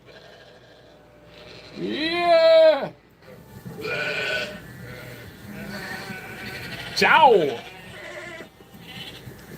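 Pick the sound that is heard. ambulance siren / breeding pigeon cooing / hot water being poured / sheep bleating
sheep bleating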